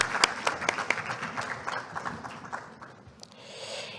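Audience applause at a research institute's 10th-anniversary vision ceremony, a steady spread of clapping with a few sharp claps near the start that thins toward the end.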